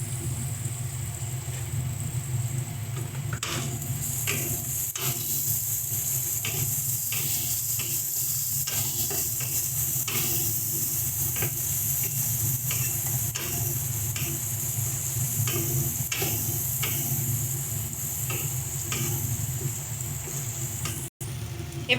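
Eggplant masala sizzles steadily in a pan as spices are stirred through, with continuous frying hiss and repeated scraping stirs, close and fairly loud, no talking.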